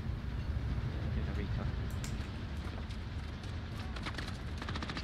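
Moving train in the video game Warzone, a steady low rumble with faint rattling and clicks under constant noise, while people talk over it.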